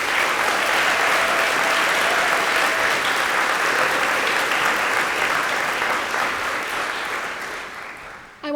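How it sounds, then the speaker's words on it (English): Banquet guests at the Carolina Club applaud the kitchen staff, sustained dense clapping that holds steady for several seconds and then gradually tapers off near the end. "Let's give them a round of applause"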